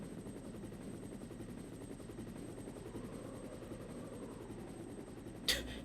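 Helicopter in the video game Resident Evil Director's Cut, its steady rotor chop throbbing continuously as it approaches, with a brief sharp burst near the end.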